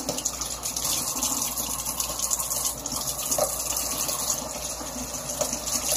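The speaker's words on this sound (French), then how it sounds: "Et simplement remplir notre bocal pour que toutes les graines soient dedans" Lukewarm water pours steadily into a jar of sprouting seeds, a continuous close gushing and splashing with no break.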